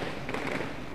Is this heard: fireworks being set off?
yes